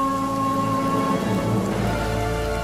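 Steady rain ambience from the video game Aliens Dark Descent, a continuous dense hiss of rainfall layered with sustained musical tones, with a low rumble swelling toward the end.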